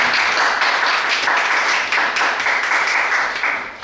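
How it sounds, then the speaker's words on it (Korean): Loud, close audience applause, a dense and continuous wash of many hands clapping together that holds steady and then begins to fade near the end. "다시 한번 큰 박수"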